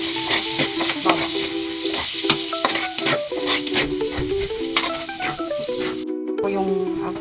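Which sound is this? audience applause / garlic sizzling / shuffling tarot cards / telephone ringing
garlic sizzling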